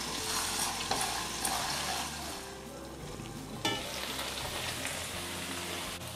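Potato and green beans being sautéed and fried in a pan, a dense continuous sizzle with scraping stir strokes throughout, close and fairly loud, with one sharper clatter midway.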